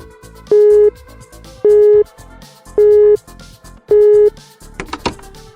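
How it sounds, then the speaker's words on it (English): Telephone line tone as a radio station dials a listener's home, four evenly spaced loud beeps repeating about once a second, followed by brief clicks and noise. "The broadcasting station had dialed the high school girl's home directly, establishing a live connection."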